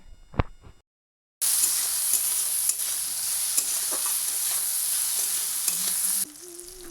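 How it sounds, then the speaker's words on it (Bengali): Eggplant pieces sizzle steadily in hot oil seasoned with cumin, salt and turmeric, a loud continuous frying hiss with occasional stirring scrapes, preceded by a brief clatter and a moment of silence. "এখন বেগুনগুলো দিয়ে পরিমাণ মতো নুন হলুদ দিয়ে ভেজে নিব।"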